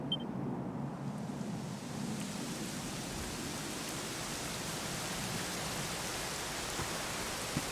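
Steady rain pours down in a dense, even hiss, constant and enveloping with no pauses, in the video game Dragon Quest XI S.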